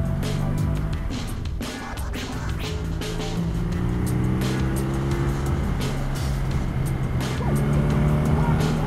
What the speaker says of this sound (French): On a l'impression qu'il y a quelqu'un qui a mis un mouchoir au cul du pot et ça atténue le bruit en fait.